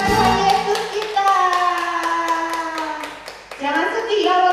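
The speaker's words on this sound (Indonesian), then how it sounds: "Tepuk tangan buat Tuhan Yesus kita." Children clap their hands during a children's church worship service. The claps come in a steady rhythm and mix with sustained music and singing voices.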